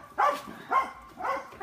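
A dog gives three separate barks spaced about half a second apart, each moderately loud over a quiet outdoor background during a frisbee outing.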